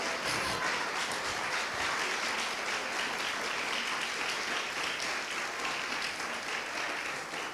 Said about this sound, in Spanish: Si le va a aplaudir, apláudele porque es para Él.